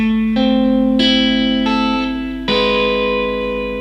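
A guitar plays a riff with a moving bass line, picked notes ringing out close and clear in a slow, stepwise sequence with a slightly effected, reverberant tone.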